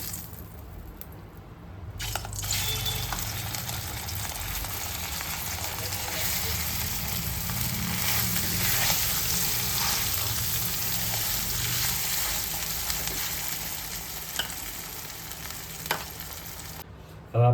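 Ginger, garlic and chili paste drops into hot oil for panipuri filling and fries with a sudden onset of dense sizzling that holds steady, close and moderately loud, before cutting off near the end.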